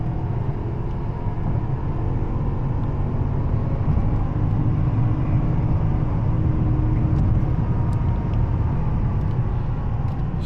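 A Mercedes-Benz W221 S550 with its V8 pulls up to speed, heard from inside as a steady low engine and road rumble. It holds an even level throughout, with no voices.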